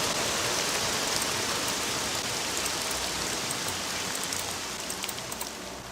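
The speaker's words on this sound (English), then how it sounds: "And here comes the rain." Rain falls in the Caesar IV city-building game as a steady, even hiss of drops with faint scattered patter, fading slightly at the end and without any talking.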